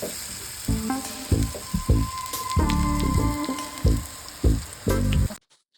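Crispy spinach (palak) pakoda sizzle and crackle as they fry in hot oil. The bubbling is close and loud, broken by repeated bursts of stirring or turning, and it ends in abrupt silence.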